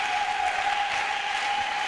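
A church congregation at an intense prayer marathon claps and cheers in honour of Jesus, producing a dense, continuous wash of applause from many people, with a faint sustained tone running underneath.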